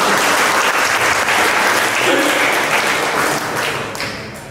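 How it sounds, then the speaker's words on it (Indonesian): A seated audience at a talk breaks into loud, dense applause that holds steady for a few seconds and then fades slightly toward the end. "Tepuk tangan kita untuk itu."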